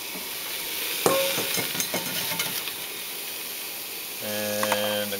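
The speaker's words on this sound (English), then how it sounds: "Now I'm just going to dry fry them" Chanterelle mushrooms dry-fry in a pot over a high flame, giving a soft continuous sizzle with scattered clinks and scrapes of stirring, close by and moderately quiet, without talking.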